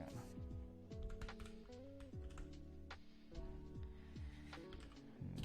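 Typing on a computer keyboard makes rapid, close clicks while music plays underneath.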